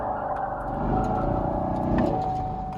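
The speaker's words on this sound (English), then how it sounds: "And that's a launch right there." A Chevrolet Camaro SS 1LE revs steadily against launch control before the start, its engine holding a loud, even drone that swells slightly and stays close throughout, with no voices.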